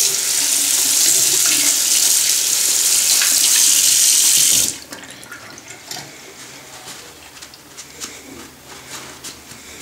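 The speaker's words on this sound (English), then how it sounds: "Let's wash it off and wipe it off, see what happens." Water runs loudly from a tap as a large steel knife blade with a forced patina is rinsed off, a steady hiss that stops abruptly, leaving quiet handling sounds afterward.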